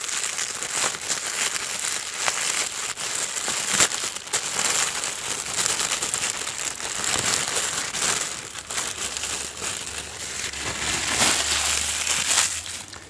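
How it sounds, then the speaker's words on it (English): Steady crinkling and crumpling of a black plastic bag as a package shipped from China, holding a cake fondant sculpting tool kit, is unwrapped up close, with rustling bursts continuing throughout and no speech. "It is wrapped in a black plastic bag. Let's go ahead and do this"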